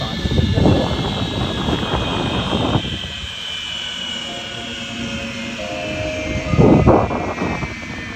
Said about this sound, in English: flying Blue Angel number 6, the opposing solo from Freeport, Maine, Lieutenant Commander Connor O'Donnell